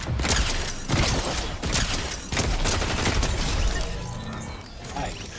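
Heavy gunfire in Fortnite, several dense bursts of rapid shots close together, loud and almost continuous with brief gaps, the rattle thinning toward the end.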